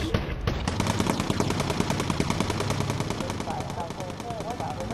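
Bomber gunners firing machine guns in the video game Bomber Crew, rapid, evenly spaced bursts of gunfire that rattle on continuously and loud, with a brief whistling tone near the start and faint tonal game effects toward the end.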